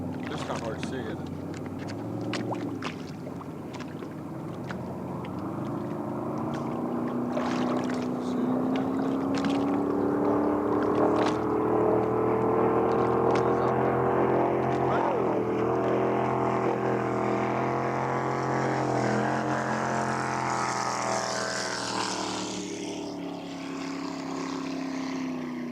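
A small motorboat runs on open water with a steady engine drone that rises and shifts in pitch as it passes nearby, while wind buffets and people talk over it.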